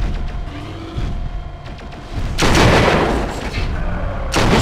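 Heavy mech weapons fire in MechWarrior 4: Vengeance, with loud broadband blasts bursting in around the middle and again at the end over a rumbling game background.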